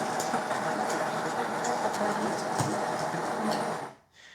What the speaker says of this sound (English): it's time to grind the coffee. Just go ahead and slot it on in and press grind.